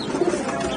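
A caged spotted dove (burung puter) gives a soft, low coo, brief and close.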